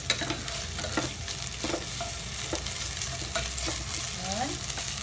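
Onion frying in hot oil gives a constant close sizzle with intermittent stirring scrapes and utensil clicks throughout, moderately loud and steady, no talking.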